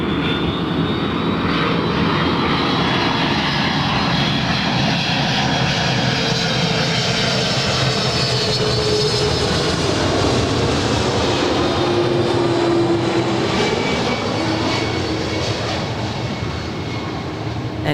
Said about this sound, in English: And on the south side, it's American 271 off to OGG Kahului, Maui. 1-year-old A321neo.